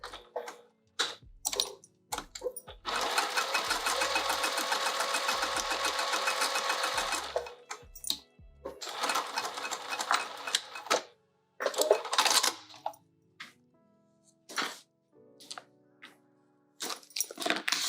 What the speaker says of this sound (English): now let's go to the machine. We're going to sew all 4 sides.